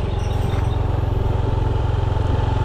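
A motorcycle engine runs loud and close with a steady, rapid thumping pulse, while the bike rides on a road scraping at the underside, and no talk is heard.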